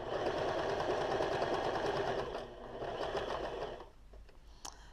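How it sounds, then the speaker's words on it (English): A sewing machine runs continuously while stitching a swimwear thong, a fast, even mechanical whir that eases off near the end, leaving brief faint clicks and no talk. "And then I'm going to sew all the way around like I did the other one."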